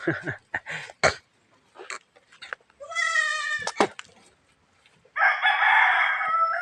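Goat bleats on a farm where a newborn kid is kept with its mother, a few loud wavering calls mixed with rooster crowing and brief talk nearby.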